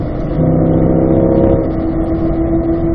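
A 2020 Chevrolet Corvette C8 accelerating hard at full power, its engine a loud close steady drone with a rising tone that shifts pitch at an upshift partway through.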